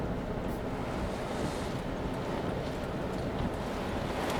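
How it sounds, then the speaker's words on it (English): Strong wind roars continuously during a tornado chase near a rear-flank downdraft, a dense, loud rush buffeting the microphone with no pauses. "Look at the wind now."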